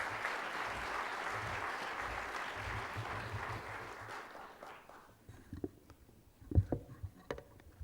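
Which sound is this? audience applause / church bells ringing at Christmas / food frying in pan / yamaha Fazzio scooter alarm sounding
audience applause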